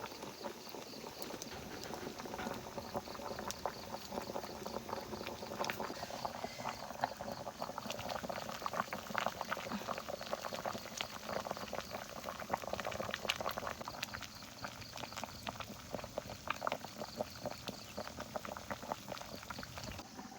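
Corn boiling in a full pot produces a continuous rolling bubble and gurgle, steady and moderately quiet, with no pauses across the whole stretch.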